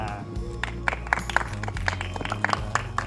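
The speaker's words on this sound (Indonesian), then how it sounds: "Dan selanjutnya kita berikan tepuk tangan juga untuk penulis dari film Garis Waktu, Benny Setiawan" Audience applause rings out at a film screening event honoring cast and crew, steady clapping with sharp individual claps rising above a sustained background hum.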